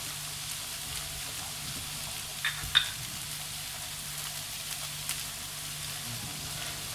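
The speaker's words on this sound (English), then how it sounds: "I'm just going to put the ham in. I'm going to brown it in the pan" Ham browning in a frying pan, a quiet, steady sizzle and spatter with a few small pops and clicks, heard close up with no talking.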